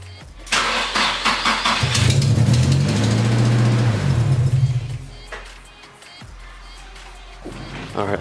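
A Nissan S15 with a turbocharged SR20DET engine cranks and fires up, then settles into a loud, rough idle with a few revs before shutting off, followed by quieter clunks and handling noise.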